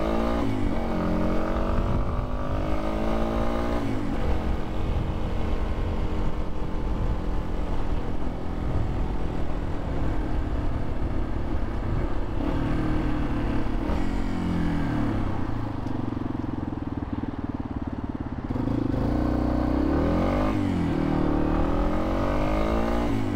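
Yamaha XT250 dual-sport motorcycle ridden on dirt trails, its single-cylinder engine droning loud and close, rising and falling in pitch as the rider works the throttle and shifts.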